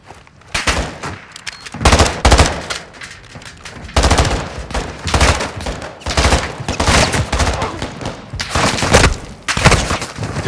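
Bursts of automatic gunfire in Call of Duty: Modern Warfare 2 DMZ mode, loud and close, rattling in repeated volleys with short pauses between them across the whole stretch.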